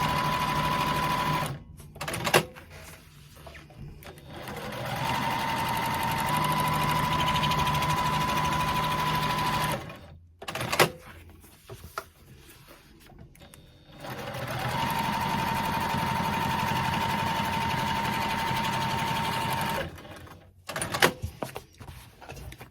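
A sewing machine quilting through faux leather, running in three long steady bursts of rapid stitching separated by pauses with small handling clicks and thumps.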